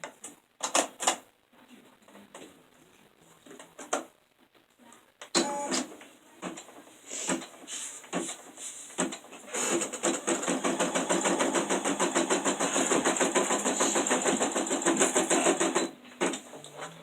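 An embroidery sewing machine stitches an in-the-hoop Easter runner with rapid, steady mechanical clatter, starting and stopping at first and then running continuously and fairly loud near the mic.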